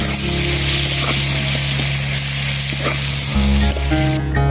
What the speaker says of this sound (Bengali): এবার আমি পটলগুলো ভালোভাবে ভেজে নিচ্ছি